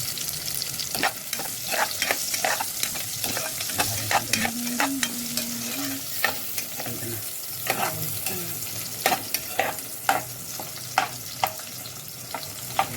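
Tomatoes fry in a pan for papaitan with a soft sizzle. Repeated stirring scrapes and utensil taps sound at an irregular pace, fairly close and moderately quiet, with no voices.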